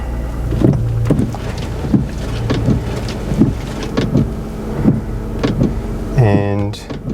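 Audi C4 windscreen wipers fitted with B7 wiper arms sweep back and forth in a steady rhythm of soft swishes about once a second, close by, with a faint whirring motor beneath and a brief mechanical rattle as they park at the end.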